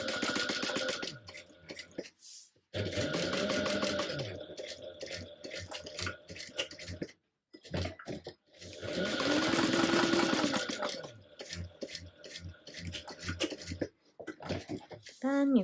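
A sewing machine basts fabric an eighth of an inch from a back panel, running loud and close in steady bursts of rapid stitching separated by short pauses, with a whirring hum under the stitch rattle.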